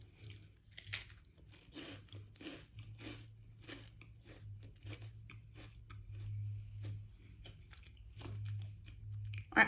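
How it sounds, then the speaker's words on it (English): A crisp, crunchy cookie is eaten, giving steady close bites and chewing crunches against a low background hum, with a louder burst at the end. "I am now going to eat this cookie"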